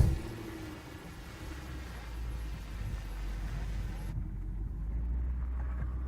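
An old Range Rover grinds through a frame-bending off-road obstacle at full articulation in all-wheel drive, its engine giving a steady low, labouring drone that continues unbroken throughout.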